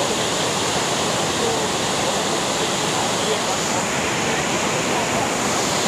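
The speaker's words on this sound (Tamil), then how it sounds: "சம ஃபோர்ஸாக போகுதுரா தண்ணி" A large waterfall on a Kerala road trip near Munnar rushes down forcefully, producing a loud, unbroken roar of water that fills the whole stretch.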